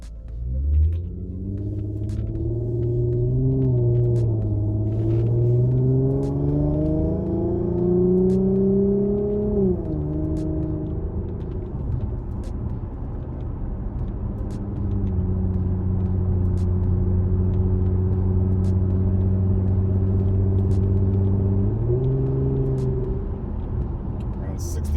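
An Infiniti Q50 with a 3.7-liter VQ V6 and an Invidia Gemini exhaust pulls hard through the gears, its deep exhaust drone climbing in pitch, dipping at each shift and then holding a steady cruise, loud and continuous from inside the car.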